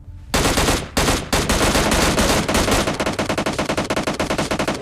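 Gunfire in the PUBG Mobile Lite mobile game comes in loud, close automatic bursts. One short volley is followed by a sustained stream of rapid shots that settles into an even, fast rhythm near the end, with no talk over it.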